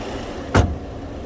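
The hood of a 2021 BMW 330i is shut once, a single short solid thud heard up close against a quiet background.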